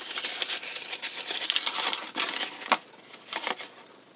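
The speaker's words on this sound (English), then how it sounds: "to make it more like fall leaves is also kind of crumple it up" Paper leaves crinkle and crumple close up in a steady stream of dry rustling, with a few sharper crackles along the way.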